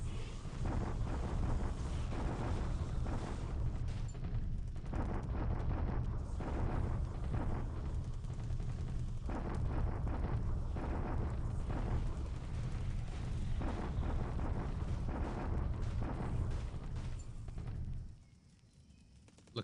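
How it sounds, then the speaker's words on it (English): Bombardment in the WWII strategy game War in the Pacific: a dense, continuous rumble of explosions for nearly twenty seconds, loud and without speech, dropping away abruptly near the end. "The usual bombardment."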